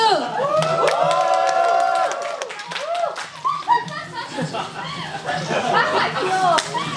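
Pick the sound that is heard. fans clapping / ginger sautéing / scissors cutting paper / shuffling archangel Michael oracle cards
fans clapping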